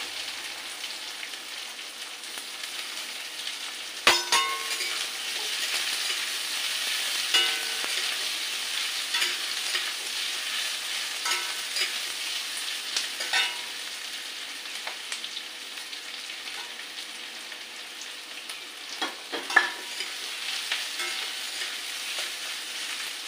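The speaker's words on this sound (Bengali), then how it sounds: "এটা কিছুক্ষণ ভাজি ভাজি করে নিতে হবে।" Onions frying in a pan give a continuous soft crackling sizzle that runs the whole stretch, with a few sharper pops and stirring knocks and no voices.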